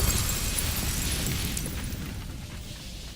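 A Confringo explosion spell goes off in Hogwarts Legacy, a loud broad blast that opens the clip and rolls off into a long rumbling, crackling decay with no voices over it.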